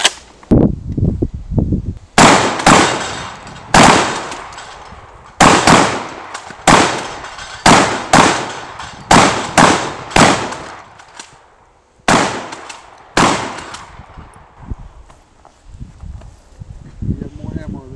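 Kel-Tec KSG pump-action shotgun fired outdoors: about a dozen loud, sharp blasts at steady intervals, some in quick pairs, each with a short echoing tail, with voices in between.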